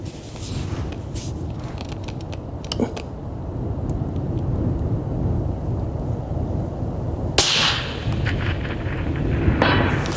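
Long range rifle shot fired at a steel target 581 yards away, a deep rumbling report followed several seconds later by a sharp distant clang of the bullet striking steel, with another faint strike near the end.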